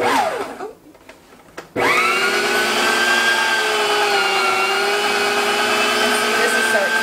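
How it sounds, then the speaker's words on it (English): An electric meat grinder chews through strips of beef for hamburgers, its motor starting with a rising whine and then settling into a loud, steady hum with a faint tonal drone, close by. "We have cut it into strips that'll fit in the meat grinder."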